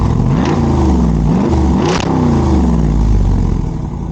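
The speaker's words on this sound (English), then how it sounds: "Got a little V8 growl to it." A 2023 Jeep Wrangler Rubicon 392 V8 revs hard and close up, its deep growling engine note climbing and falling in repeated bursts over a steady loud idle.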